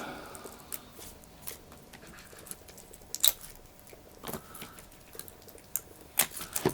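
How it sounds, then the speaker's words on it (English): Plastic wrappers peeled off a cheap men's watch, its case back and bracelet, give scattered close crinkles, rustles and sharp crackles in irregular bursts, with no talk. "So let's take the rest of the plastic wrappers off this."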